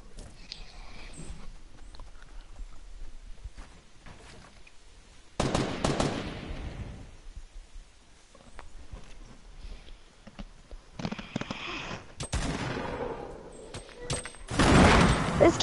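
Bursts of gunfire in Fortnite, rapid automatic volleys in several loud clusters with quieter gaps between them, with players talking over parts of the action.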